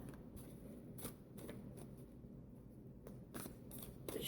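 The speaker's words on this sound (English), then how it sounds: "let's give it a couple more" Tarot cards being shuffled by hand, with repeated soft riffling bursts spaced irregularly over a low steady background, fairly quiet and close.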